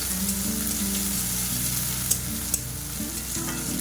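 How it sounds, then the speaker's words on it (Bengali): Chopped onion frying in a pan on a home gas stove for lunch, giving a steady close sizzle with scattered clicks and scrapes of stirring throughout. "পেঁয়াজটা দিয়ে আমি এবার একটু ভেজে নেব।"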